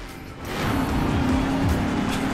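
A Ford Shelby Mustang 1000 in Forza Horizon 4 accelerating in third gear, its engine roaring up from a lower rumble into a loud, steady drone with some tire noise.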